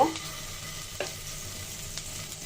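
Marinade spices frying in hot oil in a pan for Dhakaiya chicken chaap, a steady close sizzle with a few light stirring scrapes, no voices.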